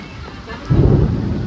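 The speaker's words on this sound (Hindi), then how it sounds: "Guys look at the rain, it's so raining." Heavy evening rain pours steadily as a broad, close hiss, swelling noticeably louder about halfway through with no voices present.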